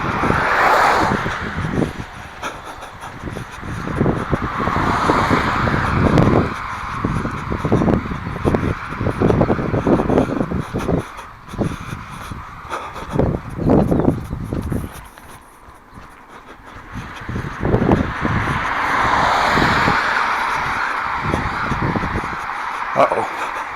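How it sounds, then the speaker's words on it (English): Cars drive fast along a narrow road in Hilo, Hawaii. Two passes swell up close and fade away, crows caw nearby, and a person talks between the passes. "you notice the cars are driving a lot faster too"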